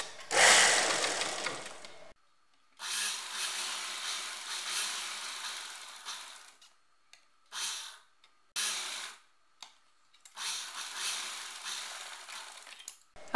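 Sewing machine stitching kurti fabric for a coat-collar kurti, running in several separate bursts of a few seconds each with short pauses between, steady and close.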